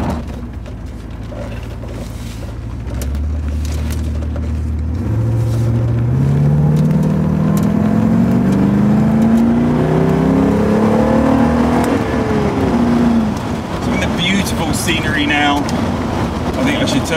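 Porsche 928 driving over very bumpy roads, its engine rising through the gears with rough clunks and knocks from the suspension, heard from inside the car under occasional talk.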